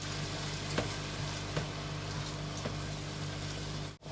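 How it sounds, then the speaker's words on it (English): A paste of onion, ginger, garlic and green chili fries in a pan with a steady, close sizzle, occasional small pops, and no talking. "here I am adding the paste of 3 big onions and ginger, garlic and green chili."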